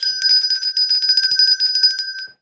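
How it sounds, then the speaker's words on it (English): A small hand bell is rung vigorously to celebrate a finished stitching project, producing a bright, rapid run of metallic rings for about two seconds. The ringing is close and loud, then stops abruptly. "This bell's going to be worn out, I'm telling you."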